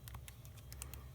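Keys pressed on a graphing calculator while an equation is entered, about eight faint, quick plastic clicks over a low background hum.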